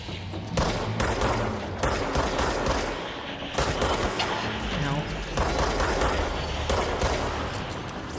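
Gunfire in the video game Control rattles in dense, continuous bursts of rapid shots, loud and close, with a few heavier thuds mixed in throughout.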